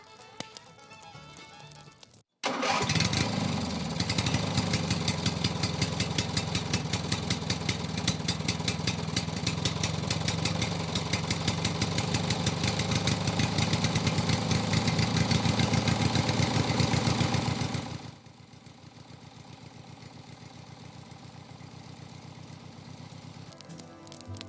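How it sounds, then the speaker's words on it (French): A generator kicks on after a brief pause and runs loud and steady with a dense, throbbing engine drone for about fifteen seconds, then cuts down to a quieter hum. "Je vais aller allumer le générateur et puis ça va le faire."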